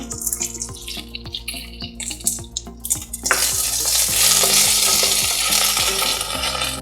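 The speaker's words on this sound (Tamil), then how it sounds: "காஞ்ச மிளகாய் கிள்ளி போட்டுக்கலாம்" Mustard seeds, curry leaves and broken dried red chilli tempering in hot oil, with loud crackling and popping that turns into a dense, steady sizzle midway, alongside scattered clinks of a utensil.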